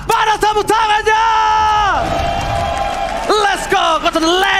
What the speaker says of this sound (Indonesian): So, EPL Arena, pada tepuk tangannya!